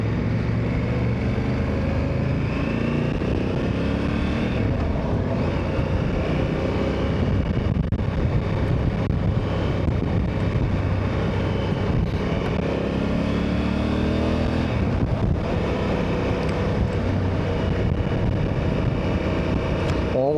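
A 2026 Honda CRF 1100L Africa Twin runs on a road ride, with a steady, loud engine drone and heavy wind rush that continue without a break.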